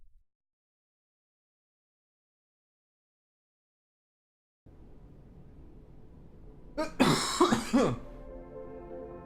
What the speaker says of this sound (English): So you will hear some coughing every so often.